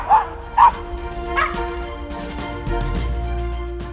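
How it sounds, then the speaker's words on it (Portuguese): A dog gives a few sharp yips and barks near the start, then whimpers softly over a low background rumble. "Você vai conhecer também o Natalino, um cachorro que só sabia latir e atacar os outros"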